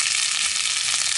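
Egg and lean bacon sizzle in a hot pan over a camp stove, a dense, steady frying hiss filling the short moment with no voices.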